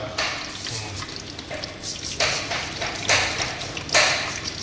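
Mustard seeds frying in a pan for a Sri Lankan goat offal curry, a constant sizzling hiss with sharp crackling bursts and stirring clatter.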